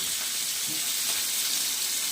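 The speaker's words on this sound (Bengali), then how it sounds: "মাছগুলো ভালো করে ভেজে নেবো" Pieces of rohu fish frying in hot oil for a yogurt fish curry, giving a steady, dense sizzle that carries evenly through the whole short stretch with no voices.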